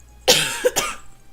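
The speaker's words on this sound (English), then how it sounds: "Should not be coughing into my microphone" A person coughs close into a microphone, one harsh burst and then two quicker follow-up coughs, with near-silence around them.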